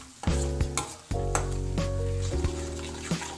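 Beans and salt-seasoned masala being mixed in a pan for a beans aloo stir fry, with a steady loud sizzle broken by clanking strokes of a spoon against the pan.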